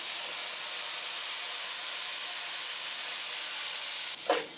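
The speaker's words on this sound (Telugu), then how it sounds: "లవంగాలు పగులుతున్నాయి." Cloves crackling as they fry in hot oil in a pan, a steady dense hiss of sizzling with one brief sharper pop near the end, no voices.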